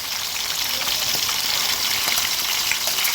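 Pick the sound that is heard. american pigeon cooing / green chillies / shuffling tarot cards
green chillies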